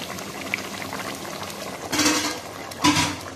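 Catfish stir-fry bubbles in a pot as the lid comes off, a steady sizzling boil with two louder bursts of bubbling and a faint clink of the pot, no voices.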